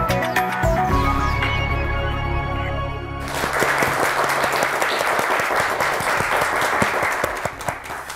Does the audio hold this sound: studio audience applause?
yes